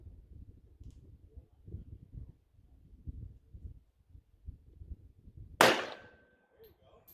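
A single sharp gunshot rings out at a shooting range, loud and close with a short decaying tail, after a stretch of low murmuring voices.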